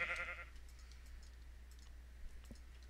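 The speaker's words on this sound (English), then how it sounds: "The sheep right there." A sheep in the Minecraft video game gives a short bleat at the very start, followed by faint clicking and quiet background sound.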